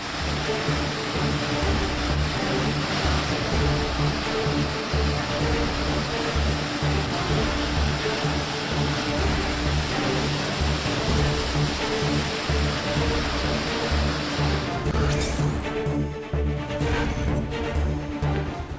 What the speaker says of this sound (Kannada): ಹೊಸದುರ್ಗ ತಾಲೂಕಿನ ಕೆಲ್ಲೋಡು ಸೇತುವೆ ಭರ್ತಿಯಾಗಿ ನೀರು ಹರಿತಿದೆ